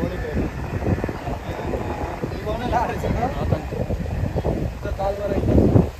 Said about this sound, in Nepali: अलिकति मौसम पानी पर्न लागेको जस्तो हावाहुरी आइरहेको छ